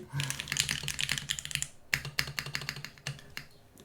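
Keystrokes on a mechanical keyboard fitted with PBT keycaps, a close, busy run of clacky taps with a couple of brief pauses and deeper, thuddy spacebar-like hits.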